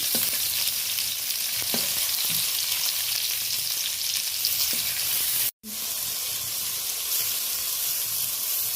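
Green tomatoes sizzle loudly in a hot pan for a Bangladeshi tomato mash, a dense continuous frying hiss with a few scraping turns of the pieces and one abrupt brief break, heard up close without talk.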